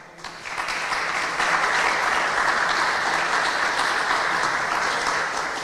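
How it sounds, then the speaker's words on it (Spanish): A large audience at a formal engineering conference breaks into steady, loud applause that swells within a second and holds as a dense, even roar of clapping. "para quien pido un cálido aplauso"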